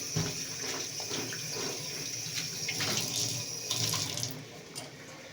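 Pointed gourds get rinsed together under a running kitchen tap, water splashing steadily into the sink with bursts of sharper spatter and clatter as the vegetables are rubbed and turned, close by with no talking.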